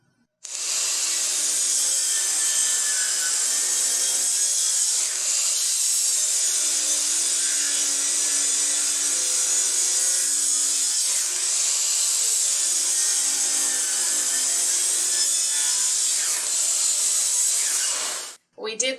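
A miter saw cutting 45-degree angles into the edges of pallet-wood panels for a jewelry box, a loud, continuous high whine of the spinning blade biting through the wood, close up and ending abruptly.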